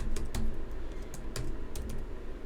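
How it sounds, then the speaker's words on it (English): Text is typed on a computer keyboard, a quick run of close, crisp key clicks in an uneven rhythm over a quiet room. "Come over here, type in whatever text that you want."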